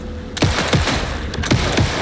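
Gunfire in the Alan Wake II video game, several sharp shots at uneven intervals cutting through a dense, noisy combat background, fairly loud and close with no talk.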